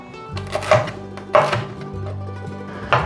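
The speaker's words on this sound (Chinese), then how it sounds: "把红甜椒切条" A knife slices a red bell pepper into strips on a cutting board: several distinct close chopping thuds spaced irregularly, with quiet pauses between.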